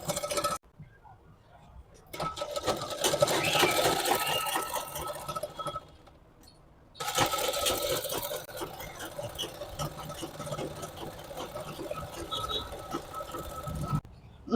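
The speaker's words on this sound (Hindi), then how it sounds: "यहाँ पर हम एक टॉप सिलाई लगाएंगे" A sewing machine runs in steady bursts while top-stitching a palazzo trouser, its fast mechanical whir stopping briefly between runs, heard close with some clinking.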